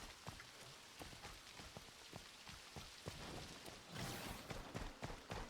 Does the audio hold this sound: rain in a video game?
yes